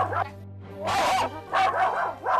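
A Doberman puppy barks and yelps in bursts, about three loud, close yaps over a steady low background hum.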